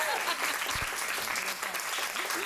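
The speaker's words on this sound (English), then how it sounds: "A round of applause." Dense audience applause after a panel discussion at a film screening celebration, steady and fairly loud for the whole short stretch, with faint voices underneath.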